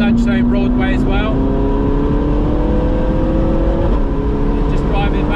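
A Ferrari 458 Spider with a Capristo exhaust cruises on a road, its engine droning close and loud with a steadily rising tone and a brief shift midway, while a voice talks over it.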